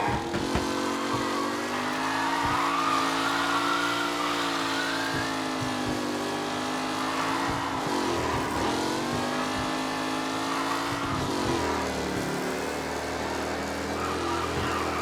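Race cars in Mafia Definitive Edition, with a steady loud drone of several engines holding and shifting pitch as the pack drives on, close and continuous for the whole stretch.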